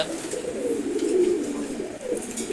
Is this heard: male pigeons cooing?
yes